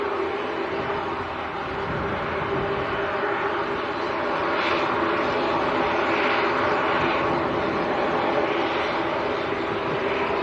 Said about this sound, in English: ATR 72 going down to Guernsey